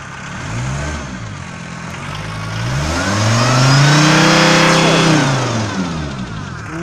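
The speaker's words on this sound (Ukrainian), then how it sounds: "От зараз після прогріву, при прогазовці нема ніякого, ні диму, нічого абсолютно" Volkswagen T4 Caravelle engine revving after warm-up, a close mid-pitched engine rising from idle to a smooth peak and falling back, loud and alone without talk.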